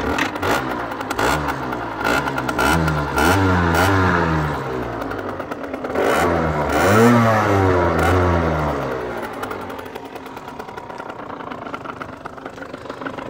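A 2016 Gilera SMT 50 motorbike engine runs close by, idling and revving in rising and falling sweeps before settling back down, loud and steady with no talk over it.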